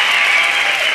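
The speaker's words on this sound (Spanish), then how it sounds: "fue un gran recibimiento, fuerte el aplauso" Loud, dense audience applause fills a brief moment at a live talk show.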